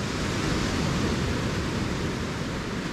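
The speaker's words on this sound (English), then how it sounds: "all I can hear is birds and waves" Ocean surf washing steadily on a remote island shore, a loud, continuous broadband rush with no distinct bird calls standing out.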